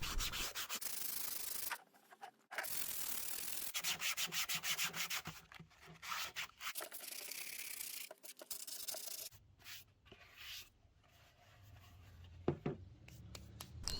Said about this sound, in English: So much sanding had to be done.